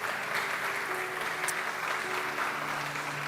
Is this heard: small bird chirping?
no